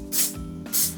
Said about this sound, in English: I'm gonna take some of this avocado oil spray,